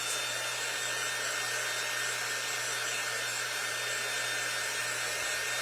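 A hair dryer blows steadily and loudly throughout, drying paint on a DIY painted door round, with a constant airy roar and low motor hum and no pauses.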